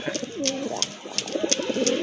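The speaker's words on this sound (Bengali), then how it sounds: "আরেক জোড়া কবুতর দেখতে পাচ্ছেন খুবই সুন্দর কবুতর এটা অবশ্য রাজগোল্লা কবুতর" A pair of desi Raj Golla pigeons coo close by, with low, throaty, repeated coos running through the whole stretch and small sharp bursts above them.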